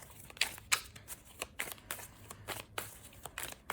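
Tarot cards being shuffled by hand, a run of soft riffling bursts and sharp snaps repeating irregularly, close and fairly quiet, with no talking.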